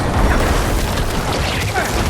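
A booming Corpse Explosion spell from a Necromancer video game, a loud, dense burst of low rumbling blasts and crackle filling the short moment.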